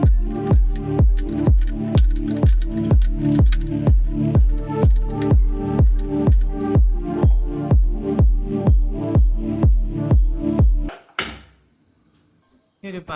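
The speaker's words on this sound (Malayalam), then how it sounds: "ഇനി ഈ മസാലാസും എല്ലാം നല്ലപോലെ മിക്സ് ചെയ്യുക." Masala and coconut oil are worked by hand into brinjal slices for a Kerala-style fry, giving a regular series of wet squishing slaps, about two per second, close and loud. They stop abruptly, followed by a brief clatter and near silence.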